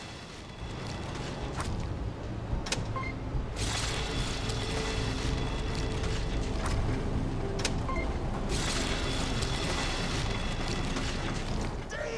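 A meat grinder running in Borderlands 2, a dense, continuous mechanical rumble and churning grind with periodic creaks and clanks, steady and close throughout.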